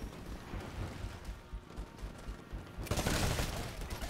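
Gunfire from another player in a Titanfall multiplayer match: faint rattling shots at first, then a loud, dense burst of automatic fire that keeps going to the end.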